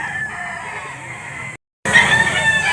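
Roosters and chickens at a Lipa livestock auction market in Batangas, a steady crowing, clucking chorus that cuts out briefly and returns louder, close and continuous.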